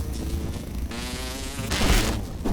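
A mosquito in the video game Grounded buzzes loudly and close, a steady whining drone that swells and shifts in pitch as it circles, with a brief louder burst near the end.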